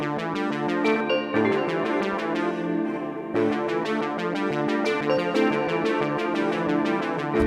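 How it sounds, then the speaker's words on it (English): A fast synth arpeggio pattern in triplets, processed with Portal and other effects, rapid repeated plucky notes over a dense harmonic backing, busy and continuous, briefly thinning before resuming. "I wanted to add this really crazy synth pattern"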